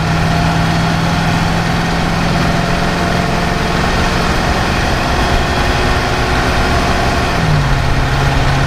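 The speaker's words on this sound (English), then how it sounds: "You can hear the engine sounds nice and strong." The engine of a 1982 Winnebago Brave motorhome idles steadily and loudly nearby, a constant low rumble and hum with a slight drop in pitch near the end.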